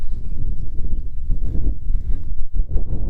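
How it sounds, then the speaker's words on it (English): Gusty wind buffets loudly in low, uneven surges on Nant-y-Gwyddon mountain, Rhondda Fawr, Wales, rushing against the microphone with no other sounds. "It's got a bit windy now."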